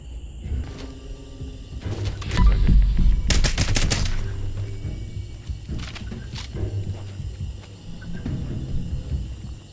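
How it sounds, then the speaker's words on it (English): Gunfire in the Fallout 76 video game: scattered bursts and single shots with a sharp rapid volley in the middle, over a loud rumbling game soundscape and animal-like roars, no talk. "See, this guy's shooting me too!"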